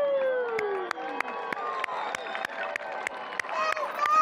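A crowd cheers and shouts at the Blackpool fireworks championship, a lively roar punctuated by sharp repeated bangs and whistling fireworks overhead.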